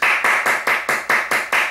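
Hands clap in a steady, even rhythm, about eight sharp claps in quick succession, close and loud, with no voices over them.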